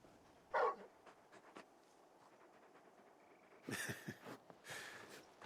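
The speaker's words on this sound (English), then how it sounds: "You're just a big puppy, aren't you? A very big puppy." Torgal, a large dog companion in Final Fantasy XVI, gives a short whimper followed by faint panting and soft snuffling breaths, quiet and close.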